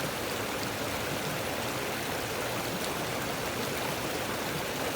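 A small river stream flowing through old-growth forest near Mount Rainier, a steady dense rushing and babbling of water close by, continuous and alone with no voices.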